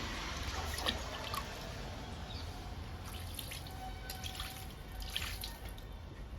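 Liquid fertilizer trickles and drips from a pour onto indoor plants, a faint, close, uneven dribble over a quiet background.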